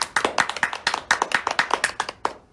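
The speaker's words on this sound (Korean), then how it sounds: "박수!" A small group clapping in a high school classroom, a close, distinct series of individual hand claps in a brisk, slightly uneven rhythm, loud and alone, ending with a couple of final claps.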